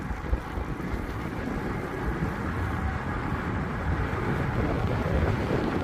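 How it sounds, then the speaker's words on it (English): Steady wind in the Lake District, UK, rumbles against the microphone in a constant low roar, with no voices and little change throughout. "Quite windy."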